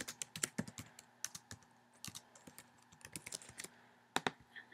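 Someone types Python code on a computer keyboard, making quick, irregular clicky keystrokes in short bursts with brief pauses. The keys sound close and quiet, with a faint steady hum behind them and no talking.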